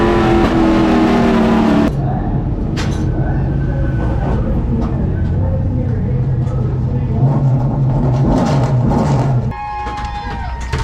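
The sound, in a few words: race cars racing at Hickory track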